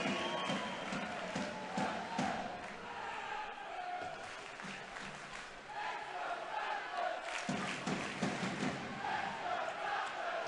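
An ice hockey arena crowd cheers and roars continuously at an Elite League game between the Nottingham Panthers and Glasgow Clan, a loud, dense wash of voices with swells of noise throughout.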